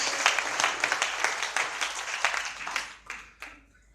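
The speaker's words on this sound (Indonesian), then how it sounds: "yang mau berikan tepuk tangan buat Tuhan Yesus" Congregation applause in praise of Jesus at a church worship seminar, a dense crowd of claps sustained for about three seconds before thinning and fading out.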